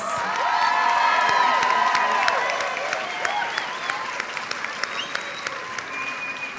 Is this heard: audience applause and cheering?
yes